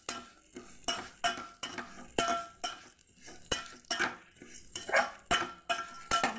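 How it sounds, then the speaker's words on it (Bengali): Vermicelli being stirred in hot ghee in a pan: a spoon scrapes and clinks against the metal in repeated rhythmic strokes about twice a second, with a faint sizzle underneath and no voices. "তবু আমি একটু সামান্য গরম গাওয়া ঘিয়ের সঙ্গে একটু হালকা করে নাড়িয়ে নিচ্ছি।"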